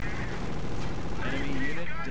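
Gunfire and battle noise in the Company of Heroes strategy game, shots against an anti-tank gun, a continuous dense rumble of firing and explosions heard under someone talking.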